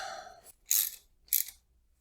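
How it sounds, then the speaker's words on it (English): Two short metallic ratcheting bursts from a socket wrench tightening fuel rail bolts on an engine, close and distinct with a pause between, after a brief tonal sound at the start. "we're just going to tighten those down with a socket that actually fits"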